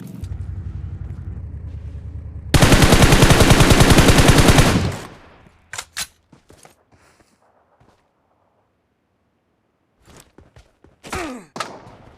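Automatic gunfire in the mobile battle royale game BGMI, a loud rapid burst lasting about two seconds followed by scattered thuds, clicks and a few short game effects.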